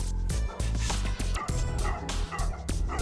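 Tibetan Mastiff dogs bark repeatedly and loudly at close range, a dense run of deep woofs mixed with higher yips and whimpers from several dogs at a collector's kennel complex.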